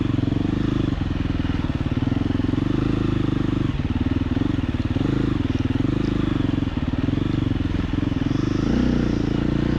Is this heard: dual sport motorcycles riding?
yes